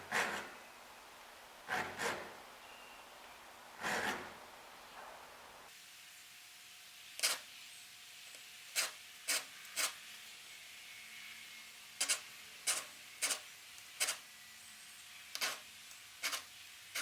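A hand file being worked on metal before heat treating to cut a decorative pattern, in sharp separate rasping strokes at irregular intervals. Each stroke is brief and close against a quiet background.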